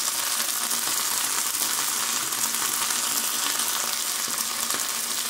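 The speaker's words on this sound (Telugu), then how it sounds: "వీటిలన్నిటినీ కూడా బాగా మగ్గే వరకు ఫ్రై చేసుకోవాలి" Fenugreek, mint and coriander leaves frying in a pan for chicken donne biryani, giving a steady, loud, close sizzle with faint stirring, no talking.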